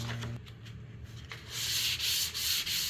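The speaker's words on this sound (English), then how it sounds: "I'm just lightly sanding." Hand sanding over gray primer on an MGB body panel, steady back-and-forth rubbing strokes, close and continuous, growing louder and hissier in the second half with no talking.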